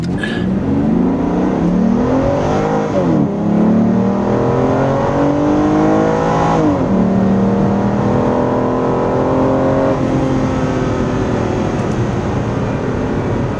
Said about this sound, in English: put on sport mode. That'll accelerate quicker.